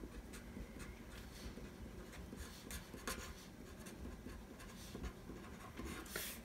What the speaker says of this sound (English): So let me write this like this.